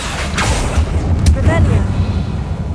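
The Confringo blast spell in the Hogwarts Legacy video game goes off as a short fiery burst with a booming rumble, heard right after the spell name is spoken, over game ambience.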